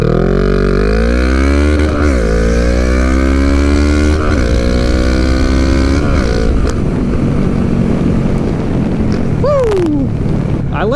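A Honda Rebel 500 motorcycle with a cheap aftermarket exhaust pulls hard off the line, its engine note rising through several gears with brief dips at each shift and a final sharp rev, loud and close with wind rush.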